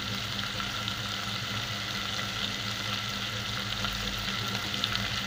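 Prawns lightly frying in a pan for an okra and prawn curry, producing a continuous close sizzle with a low background rumble and no voices.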